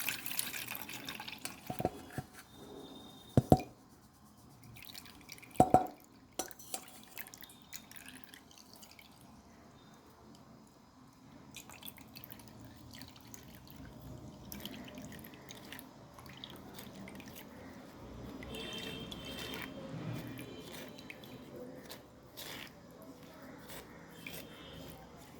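Ground rice batter strains through a sieve, scattered drips and a few sharp splashes early on, then a faint, steady trickle of liquid running in a quiet kitchen.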